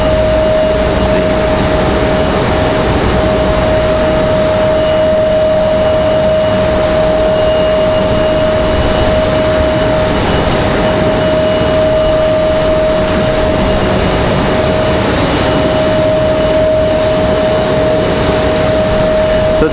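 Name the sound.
Frontier airliner jet landing at Raleigh-Durham airport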